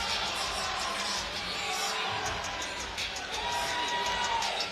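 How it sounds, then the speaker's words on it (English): Arena crowd at a Dirty Boxing fight night in Nashville chanting a hometown winner's nickname, a dense, steady roar of many voices with whoops rising throughout. "They're not booing, they're chanting Stewie."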